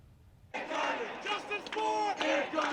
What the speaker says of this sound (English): Angry crowds tonight in the streets of New York, protesting yet another controversial grand jury decision.